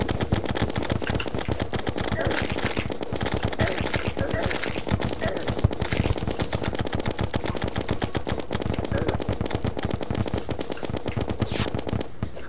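Rapid, steady automatic gunfire in the video game Terraria, a continuous rattling stream of shots running the whole time at even loudness, with a faint voice now and then.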